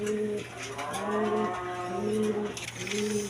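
A pair of high-flying Giribaz pigeons on a farm coo in repeated, rolling phrases at close range, with a steady low hum underneath and no voices.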